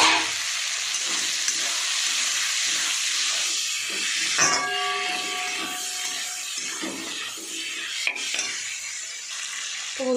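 Chicken and shrimp fry in a hot pan, giving a continuous loud sizzle and hiss with stirring scrapes, a few utensil clinks and a brief tonal ring midway. No one talks.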